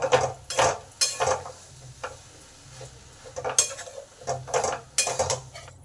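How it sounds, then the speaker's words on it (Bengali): A spoon stirs a spicy-sweet jujube mixture in a pot, making rhythmic scraping and clinking strokes against the metal with short pauses between them and a light sizzle underneath. "এবার সমস্ত কিছুকে ভালো করে মিশিয়ে নেব"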